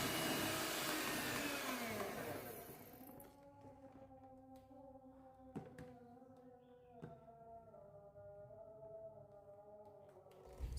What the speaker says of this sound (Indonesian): Kemudian mixer adonan dari kecepatan rendah sampai tinggi.